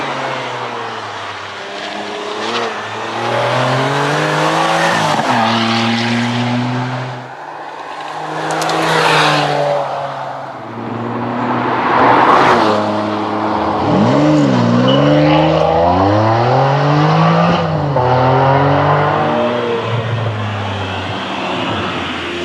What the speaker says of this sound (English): put the keys into the ignition and start the engine. This car sounds amazing